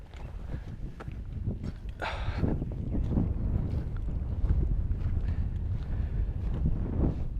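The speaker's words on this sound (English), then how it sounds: "wind's starting to pick up a little bit." Wind buffets an unshielded microphone at an outdoor rimfire rifle range, making a steady low rumble that continues for the whole clip with no speech.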